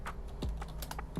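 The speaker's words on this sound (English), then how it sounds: "Why am I typing Braves?" Computer keyboard typing in quick, uneven bursts of clicks, close and fairly quiet over a low steady hum, with no talking.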